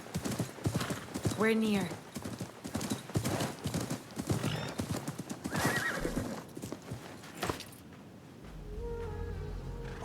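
Horse in the Assassin's Creed Mirage video game, hooves clip-clopping in a quick steady rhythm with a loud whinny partway through, someone speaking over it, ending in a quieter ambient tone.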